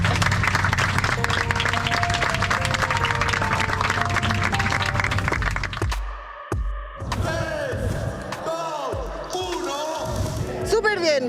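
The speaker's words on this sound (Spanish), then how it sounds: "Un fuerte aplauso para Oriana" A studio audience gives Oriana a loud burst of applause, dense clapping that cuts off abruptly midway, after which people talk over scattered sounds.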